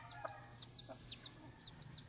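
Chickens cluck softly and repeatedly at close range, a quick chain of short chirpy calls over a steady low background hum.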